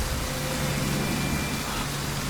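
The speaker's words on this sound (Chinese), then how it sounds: "按照这滂沱大雨趋势，原本干涸的河道也会蓄满" Heavy rain pours down over a city in a dense, unbroken wash of hiss that stays loud and even throughout, with no speech.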